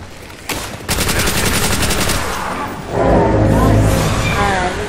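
Sustained loud automatic weapon fire in Black Ops 2 Zombies, a steady rattling stream of shots that gives way to a rougher, lower mix of game noise and effects, with no clear talk.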